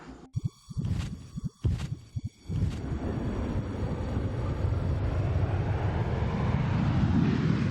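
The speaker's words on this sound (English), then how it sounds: "a great example of quieting a very loud noise is our newest experimental aircraft, the X59" NASA X-59 experimental quiet supersonic aircraft: a few sharp clattering knocks at the start, then a broad rushing jet roar that builds steadily and stays loud to the end.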